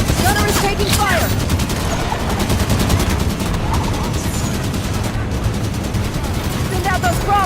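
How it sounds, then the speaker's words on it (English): Dense, continuous gunfire in the video game Halo 5: Guardians, with sustained automatic bursts and battle noise filling the whole stretch, loud and close, while voices speak over it at times. "Gunner is taking fire!"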